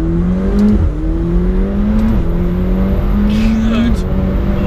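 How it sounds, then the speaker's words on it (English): A McLaren 720S sports car engine drones steadily while driving, its pitch rising in repeated stepped gear pulls. Someone talks over the engine throughout. "I'm gonna dial this down to sport and try my best to conclude."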